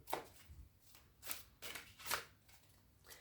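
Cards riffle in a few quick, crisp bursts spaced about a second apart, close and fairly quiet with soft rustling between.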